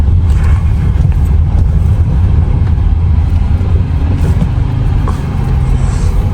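A car drives along a rough, potholed mountain road near Sadpara Lake, its steady engine rumble and road noise loud and close throughout, with no talk.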